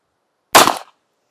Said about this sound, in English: All right, that felt like 3 good shots.